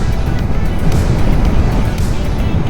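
A Honda VFR 800 V-TEC RC46 motorcycle being ridden on the road, a steady loud rush of engine drone and wind noise holding constant throughout, with no clear gear changes.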